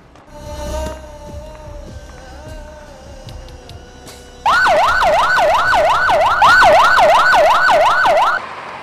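An ambulance siren wails loudly in a rapid, steady up-and-down cycle, starting abruptly after a quieter stretch of street noise and continuing for several seconds close by.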